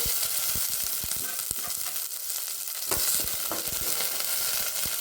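Garlic, spring onion and onion fry in a spoonful of ghee, giving a dense, continuous sizzle punctuated by repeated quick ladle taps and scrapes against the pan, close and fairly loud with no talking.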